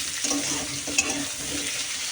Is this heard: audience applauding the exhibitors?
no